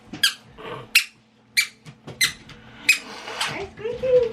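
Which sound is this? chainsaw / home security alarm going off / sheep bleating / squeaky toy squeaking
squeaky toy squeaking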